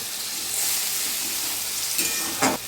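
Spice paste of tomato and onion sizzling and hissing steadily in hot oil for Bengali chicken curry, with a couple of brief louder crackles near the end.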